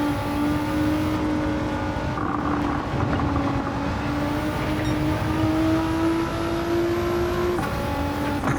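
A Nissan GT-R racing in Gran Turismo 7, its engine holding a loud steady drone whose pitch climbs slowly under acceleration, with a brief shift near the end and no talk over it.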